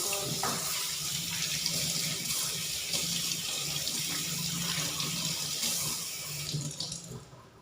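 Tap water runs steadily into a sink while lemongrass and kaffir lime leaves are rinsed clean, a continuous close splashing wash that tapers off near the end.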